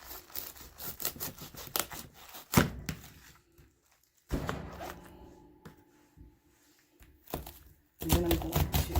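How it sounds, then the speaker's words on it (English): A knife chops through a tough head of cabbage on a cutting board while greens are prepped for an Instant Pot. Close, crisp crunching cuts come in clusters with short pauses between them. "I'm going to cut through the cabbage. It's kind of tough."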